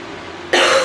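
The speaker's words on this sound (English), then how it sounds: "This cough is still lingering on me" A single sudden, loud cough from a woman with a lingering cough breaks in halfway through, following a quiet, steady background hum.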